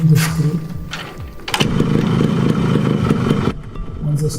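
A Yamaha RX two-stroke motorcycle is kicked over a few times, then catches and runs with a loud, fast, crackly idle for about two seconds before cutting out.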